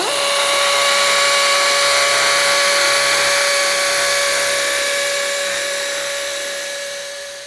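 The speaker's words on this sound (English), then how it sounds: "I set my masonry bit to exactly the depth that the bolt needs to go in." A power drill fitted with a masonry bit bores holes for aluminum railing bolts, giving a loud, close, steady high whine that holds for several seconds before easing off slightly at the end, with no talking.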